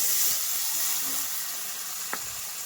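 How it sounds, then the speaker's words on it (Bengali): Broth poured into sizzling spice paste for a hilsa fish curry, a steady steamy hiss and sizzle with a faint clink, close and alone. "এই মশলার মধ্যে দিয়ে দিচ্ছি আমি ঝোল"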